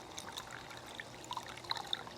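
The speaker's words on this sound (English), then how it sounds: "It's got just enough water, sound, and trickle to just soothe you." Water trickles softly in a small DIY fountain made from thrift store pieces, faint gentle splashing and dribbling with a few brighter drips, quiet and continuous.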